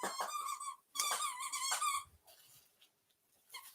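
A puppy yelps and whines in two high, strained bursts, loud and close, then trails off into faint whimpers and a last short squeal.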